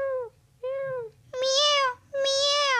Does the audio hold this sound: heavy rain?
no